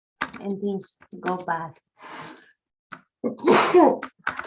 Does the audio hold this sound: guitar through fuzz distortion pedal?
no